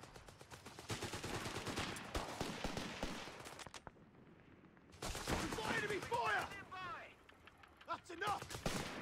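Gunfire in a video game battle: dense bursts of rapid shots and mechanical clatter, loud and close, with brief lulls, while game voices shout orders over the fighting.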